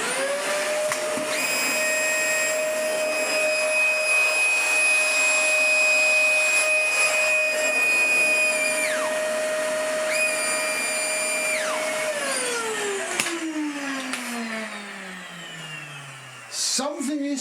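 Dyson DC40 Mk2 upright vacuum cleaner with a stripped inner belt in the cleaner head, running loud and steady with a high whine, then winding down as it is reclined; its pitch falls and the motor spins down near the end.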